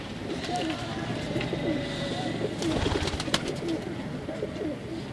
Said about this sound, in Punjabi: ਲਓ ਜੀ ਇਹ ਘੋਲ ਕਬੂਤਰ ਹੈ ਤੁਹਾਡੇ ਸਾਹਮਣੇ।